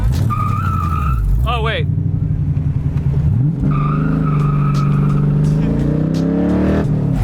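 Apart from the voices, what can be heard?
car doing a burnout, tires skidding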